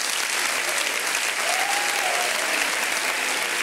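Steady, enthusiastic applause from a comedy show audience, loud and continuous for a few seconds with no pause.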